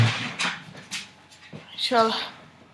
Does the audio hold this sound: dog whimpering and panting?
yes